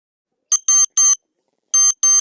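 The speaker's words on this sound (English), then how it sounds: "Now we have to add the buzzer for the alarm system. Let's check whether it beeps." Sharp electronic beeps from an ESP32-driven alarm clock buzzer: a quick group of three, a pause, then two more, loud and piercing against silence.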